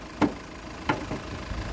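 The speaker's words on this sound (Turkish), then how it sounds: "Şimdi kaputumuzu kapatalım." The bonnet of a Hyundai diesel-electric hybrid car thuds shut, with a sharp thump followed by a second firmer slam less than a second later, then quiet outdoor ambience.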